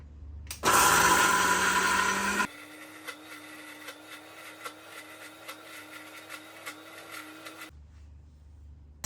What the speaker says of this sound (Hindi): अब इसे मिक्सर में डाल के स्मूथ पेस्ट बनाना है